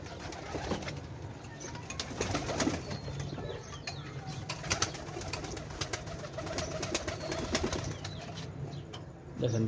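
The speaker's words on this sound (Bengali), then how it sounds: "এখানে আমি অনেক কবুতর উড়াই।" Pigeons of a flying breed at a home loft flap their wings in fluttering bursts and coo softly. The sound is close and moderately loud, with no talking.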